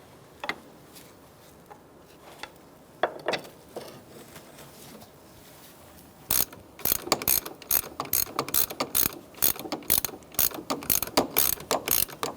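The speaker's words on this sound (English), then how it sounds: "I'm going to use my ratchet wrench. Tighten this bolt." Ratchet wrench tightening a valve cover bolt on a 2007-2012 Nissan Altima 2.5L four-cylinder engine, first a few scattered clicks, then a long run of rapid, loud close-up ratcheting bursts with no talk.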